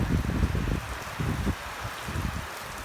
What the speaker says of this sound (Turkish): şu anda köyde şarıl şarıl yağmur yağıyor